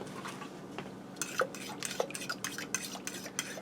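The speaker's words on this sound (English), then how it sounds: "I'm going to go ahead and whisk that together quick" Eggs and whole milk whisked together in a bowl, a run of quick, light clinking and tapping strokes against the sides that starts after a quiet second and stays close and moderately loud, with no talking.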